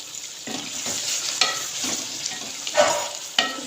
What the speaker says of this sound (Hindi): ये आधा कप दही का है, ये इसके अंदर हम डाल देंगे